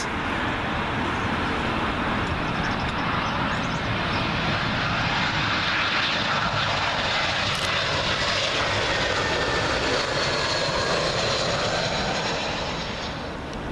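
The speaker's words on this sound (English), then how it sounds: "Here comes that big heavy, FinnAir A350 in from Helsinki" A heavy Finnair Airbus A350 arriving from Helsinki roars low overhead on final approach to Heathrow's runway 27L, a loud, broad, continuous engine rush that swells and slowly eases away, with no talk.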